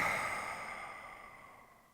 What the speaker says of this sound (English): Big breath in. Open mouth, exhale.